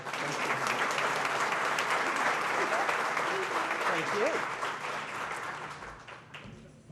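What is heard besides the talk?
audience applause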